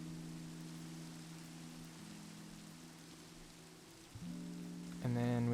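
Steady rain falls in the Minecraft Vault Hunters modpack, a continuous broadband hiss with low tonal game music underneath, ending as a brighter harmonic tone swells in the final second.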